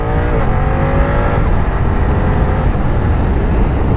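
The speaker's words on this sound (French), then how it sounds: "Allez, tu refais une petite accel, on va pas aller trop, mais on va faire une petite quand même que tu vois." A BMW F 900 XR motorcycle accelerates hard in first gear, its engine note climbing in a loud, continuous roar heard up close without talk.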